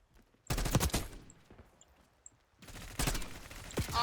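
Rapid automatic gunfire in a Call of Duty match, two loud sustained bursts of rattling shots separated by a quieter gap, close and dense.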